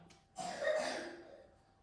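A single rough cough, close by, a short throaty burst that trails off into breath.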